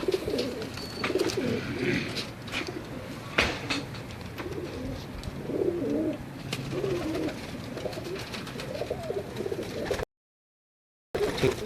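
Pigeons coo repeatedly at moderate volume, soft rolling calls recurring throughout with faint background rustle and no talk, followed by a brief gap.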